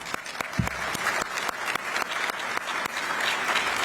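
Steady applause from a conference audience, with individual sharp claps standing out against a continuous dense clatter that holds at an even level throughout.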